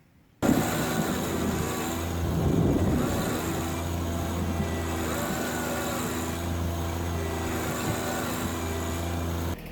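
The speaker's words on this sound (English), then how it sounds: "I hooked up the little tractor." A small tractor engine runs steadily while it drags a heavy machine over ground with poor traction, giving a loud, continuous low rumble that sets in abruptly and holds nearly level throughout.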